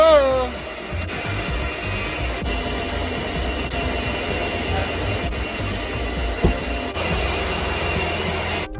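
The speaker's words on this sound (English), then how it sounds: "Working around these very loud machines is bad enough as it is" Loud bitcoin mining machines at a large farm installation run with a steady, dense mechanical roar and high fan hum, continuous throughout with a faint knock near the end.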